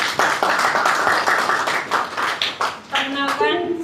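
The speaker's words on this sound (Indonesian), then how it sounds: "Tepuk tangan yang luar biasa untuk kita semua" An audience at a Ramadan gathering claps together, a busy patter of hands lasting a few seconds, while a voice begins speaking over the tail end.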